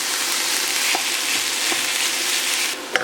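Minced meat frying in a pan gives a loud, dense, continuous sizzle close up, with a few soft knocks from stirring and a sharper clink near the end, with no voices.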